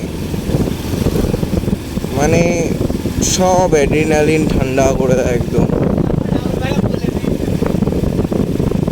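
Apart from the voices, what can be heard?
motorcycle riding with throttle and wind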